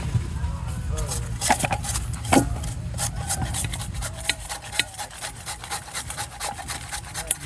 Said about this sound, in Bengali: এখন কিন্তু আমরা আলুগুলোরে ভালোভাবে ঘষে নিতে হইবে।